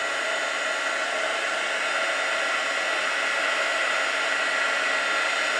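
A heat tool blows steadily for several seconds, drying distress ink on a craft tag, with a loud, constant whooshing hiss and no voices.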